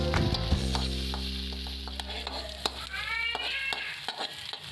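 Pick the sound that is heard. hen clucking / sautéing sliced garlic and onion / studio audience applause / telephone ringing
sautéing sliced garlic and onion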